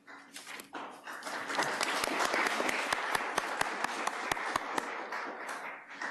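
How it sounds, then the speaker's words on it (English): An audience at a school board meeting claps after an introduction, scattered sharp claps building into steady applause that tapers off near the end, indoors and fairly close. "I think that's the first time we've ever had the introduction applauded"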